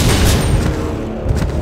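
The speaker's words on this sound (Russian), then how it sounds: "Взрывов-то сколько?" Explosions in Resident Evil Survivor 2 Code: Veronica, a loud, continuous barrage of booming blasts and crackling debris with no pause.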